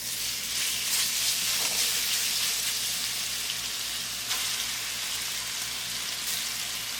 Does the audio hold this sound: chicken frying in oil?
yes